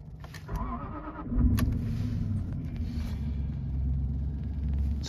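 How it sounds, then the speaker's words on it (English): A Jaguar XJ engine cranks and catches, then settles into a low, steady idle rumble, heard close from inside the car after a few faint clicks and shuffles. "So let's start the car."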